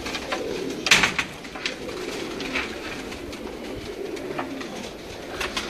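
Teddy pigeons coo steadily in a soft, rolling chorus, several birds close by with a few sharper wing or call accents breaking through the continuous murmur.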